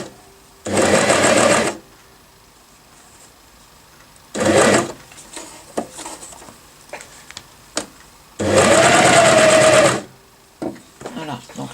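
A Janome Cover Pro CPX 2000 coverstitch machine hems fabric in three loud, steady bursts of rapid stitching, short to long, with quiet pauses and small handling clicks between runs.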